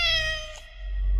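A cat meows once in unreleased horror video game footage, a single drawn-out, tonal meow up close over a low rumbling drone.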